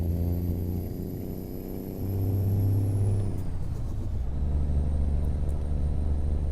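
A heavy truck engine rumbles steadily in American Truck Simulator, with a pitch drop and brief clunk partway through as a gear is skipped, then the engine settles into a deeper, louder drone.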